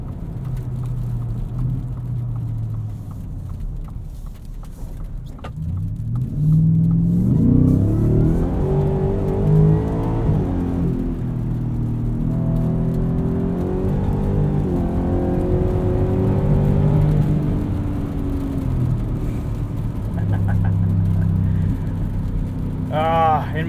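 A 2023 Ford F-150 Raptor R engine pulls hard under acceleration on the street, a deep rising roar that swells after a quieter opening and holds steady, with cabin rumble throughout.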